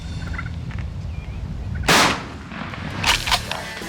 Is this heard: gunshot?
yes